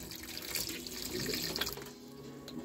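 A caravan sink's water tap runs steadily, a soft continuous splashing stream into the basin heard close by and fairly quiet, with no talk over it.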